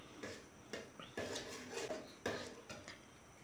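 A spoon scraping and knocking against a pan while a thick dates halwa mixture is stirred, several quiet clinks and scrapes spaced irregularly.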